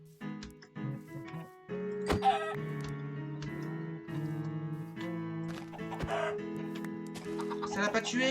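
Minecraft chickens cluck in short, repeated bursts alongside game sound effects, moderately close and fairly quiet throughout.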